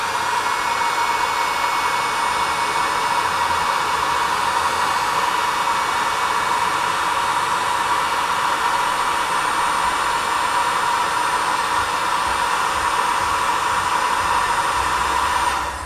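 A heat gun blows hot air over shrink tubing fitted on a handmade bracelet, a loud, steady, unbroken whooshing roar close up for the whole stretch, with no talking over it.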